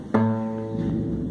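A single low guitar bass note is picked once and left to ring, sounding close and moderately loud before slowly fading.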